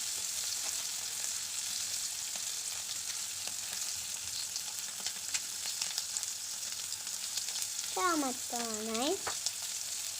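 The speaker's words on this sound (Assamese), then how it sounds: "মাছ 2 পিচ আধা ফ্ৰাই কৰি ল'লোঁ" Pieces of snakehead fish frying in a pan for an Assamese fish curry, with a steady soft sizzle throughout and a brief voice-like tonal sound near the end.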